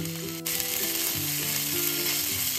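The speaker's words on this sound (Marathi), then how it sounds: "यामध्ये ना आपल्याला 1 चमचाभर इतके आलं लसूण मिरची कोथिंबीरची पेस्ट टाकायची आहे।" Ginger, garlic, green chili and coriander paste dropped into hot oil sizzles and fries steadily, a dense continuous hiss with faint stirring, and a low tonal hum runs underneath throughout.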